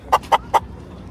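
Chickens at a zoo in Osaka give three short, sharp clucks in quick succession, close and distinct against quiet background noise.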